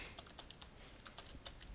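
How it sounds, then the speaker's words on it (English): Keyboard typing on a computer, a quick irregular run of light clicky keystrokes, close and faint, with no voices. "And then you type in Sony"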